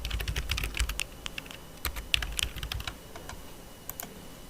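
Rapid, uneven keystrokes on a computer keyboard as a nickname is entered, close and crisp with short pauses between bursts of clicking and no voices.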